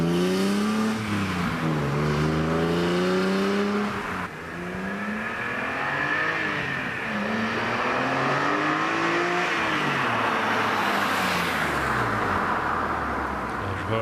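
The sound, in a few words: BMW E46 M3 S54 engine revving with Meister shaft exhaust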